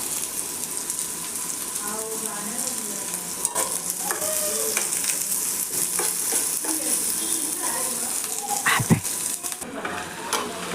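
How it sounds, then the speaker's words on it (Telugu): Onions, green chillies and curry leaves fry in hot oil with a continuous close sizzle and crackle, while a spoon stirs and scrapes against the pan with scattered clinks and knocks. "ఆయిల్ హీట్ అయిన తర్వాత ఆనియన్స్, పచ్చిమిర్చి అండ్ కరివేపాకు 3 కలిపి ఇందులో వేసేసేయాలి"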